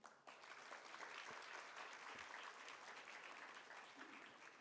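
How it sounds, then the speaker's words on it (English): Audience applause for Mr. Rajendran at a cyber security learners celebration event, a faint, steady wash of clapping lasting several seconds. "clap for Mr. Rajendran."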